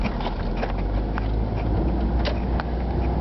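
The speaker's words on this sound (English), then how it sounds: "So I'm driving to the gym." A car driving on the road on the way to the gym on a cold day, a steady low rumble of engine and tyres with a fan running inside the cabin and occasional faint clicks and knocks.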